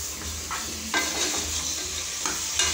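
Mutton curry sizzles steadily in a pan while a spoon stirs it in repeated scraping strokes, close and clear with no talk.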